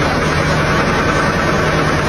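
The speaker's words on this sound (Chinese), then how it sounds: "发动机轴瓦响" Crankshaft bearing shells knocking in a running car engine, heard as a dense, continuous low mechanical drone with a rough idle texture, close and steady until it cuts off abruptly at the end.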